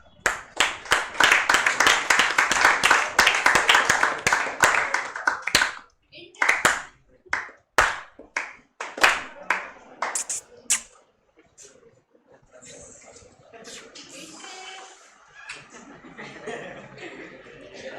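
Loud clapping rings out in a classroom, a dense burst of many hands for several seconds, then scattered claps, chuckles and voices trail off into quieter chatter.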